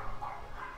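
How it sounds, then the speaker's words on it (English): Dogs bark faintly in a household background, a brief muffled yap or two under room noise. "My dogs are barking."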